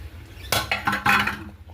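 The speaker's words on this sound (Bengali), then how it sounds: "কড়া বসিয়ে দিয়েছে এখানে," A metal kadai (wok) set down on a stove burner in a home kitchen, giving a few sharp clanks and clinks in quick succession, close and fairly loud, with no talking.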